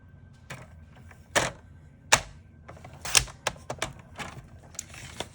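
A paper cutter trims a card panel just over a quarter sheet in size, giving several crisp close clicks and snaps of the blade through cardstock at uneven intervals.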